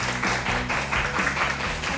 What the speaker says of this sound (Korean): 큰 박수로 맞이해볼게요